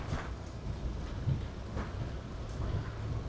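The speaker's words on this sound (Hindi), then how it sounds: "झमाझम चल पड़ी बारिश यार।" Heavy downpour at a hillside homestay in Mukteshwar, a steady, fairly faint hiss of rain with soft low rumbles swelling and fading underneath, no voices.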